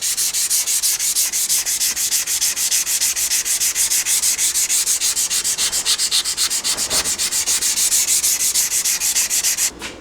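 A knife blade is sanded by hand with 400 grit paper on the hard side of a foam backer, giving fast, rhythmic back-and-forth scratchy rubbing strokes, close and loud, steady for about ten seconds before stopping.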